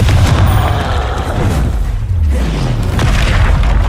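Heavy booming blasts from the Confringo fire spell in Hogwarts Legacy, with several deep explosions rolling into one another close up, alone.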